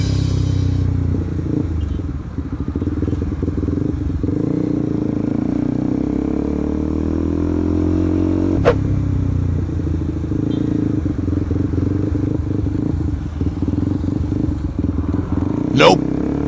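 A motorcycle is ridden hard with the throttle held open, its engine rumbling steadily and rising and falling throughout, with wind noise and a few brief clatters.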